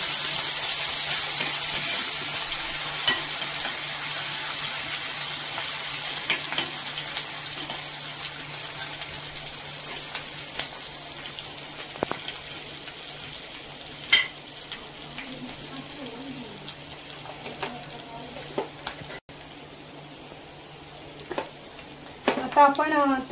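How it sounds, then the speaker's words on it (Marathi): Curry leaves sizzle in hot oil with chillies, a steady broad hiss running throughout with scattered crackles and a few utensil clinks near the end. "छान अशी कढीपत्त्याची पानं घालूया."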